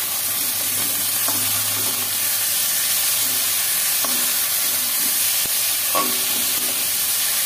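Steady, close sizzling of potatoes frying in a pan with onion-garlic paste and spices, a continuous bright hiss with occasional soft scrapes and taps of stirring and no talking.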